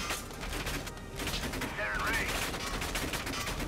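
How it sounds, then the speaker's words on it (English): Rapid machine gun fire in a ship-combat video game, continuous loud bursts of gunfire filling the clip, with no talking over it. "That's just the fucking machine gun and is doing that!"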